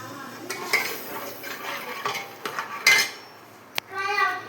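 Dal being stirred in a metal pot after water is added, giving several scraping, clattering spoon-against-pot strokes at close range with brief pauses between them.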